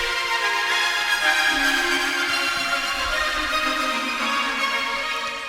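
A second synth melody in an electronic track overlays the lead, spread wide across the mix, a dense sustained layer of tones playing steadily without pause.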